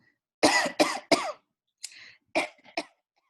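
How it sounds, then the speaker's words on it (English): A woman coughs in a close, quiet room: three sharp coughs in quick succession, a pause, then a few softer throat-clearing coughs, with nothing else heard. "She coughed."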